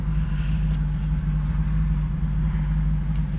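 Jeep engine droning steadily at close range on an abandoned highway, with a strong low hum and an even, unbroken level throughout and no clear surge in revs.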